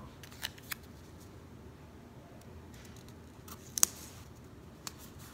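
Scissors cut a planner checklist sticker, making a few sharp, quiet snips spaced apart over a soft, near-silent background.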